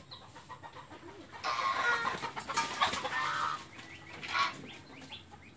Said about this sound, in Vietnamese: Ngỗng kia bày đàn của nó đó.